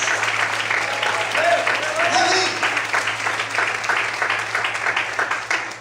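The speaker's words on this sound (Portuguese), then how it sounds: "Você pode aplaudir o Senhor bem forte." A church congregation applauds loudly for the Lord during a service, a dense continuous roar of clapping with scattered voices shouting over it, steady from start to finish.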